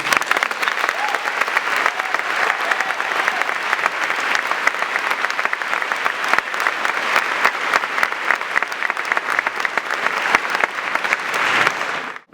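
Steady, sustained audience applause fills a hall at a University of Toronto medical school graduation, welcoming the class valedictorian, dense and even for about twelve seconds before cutting off abruptly.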